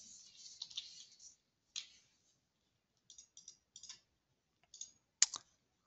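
Scattered clicks and taps on a computer keyboard, heard up close in short bursts separated by silent pauses, with one louder sharp keystroke near the end.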